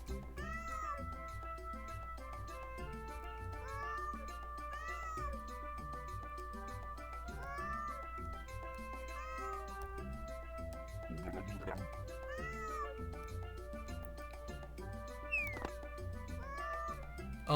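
Cats in the video game Granny In Paradise meow in short, repeated calls scattered over a soft, steady game background, with a voice talking now and then.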